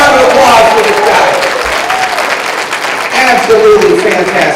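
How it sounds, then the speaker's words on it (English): An audience at a live political event cheers and applauds for a speaker being honoured, a loud, continuous roar of clapping and crowd noise that swells again near the end. "One more round of applause for this guy."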